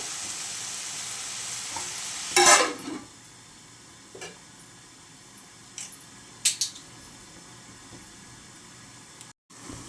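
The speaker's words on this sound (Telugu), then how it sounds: "ఇప్పుడైతే ఒకసారి కలుపుకుంటున్నాను" Plantain and dried prawn curry sizzling steadily in a pan, with a few close scraping stirs of a spoon, one loud burst early on, then softer clinks against the pan.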